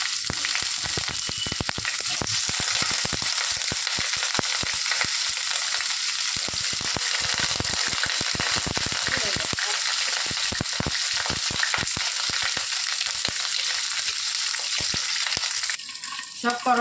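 Stuffed bitter gourd filled with potato and paneer frying in hot oil in a wok, a loud, steady sizzle with crackling bursts that continues throughout.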